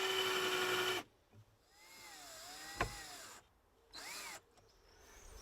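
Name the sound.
drill driving stainless steel screws into cedar wood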